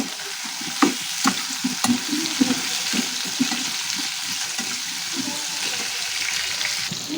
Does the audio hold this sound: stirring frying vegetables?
yes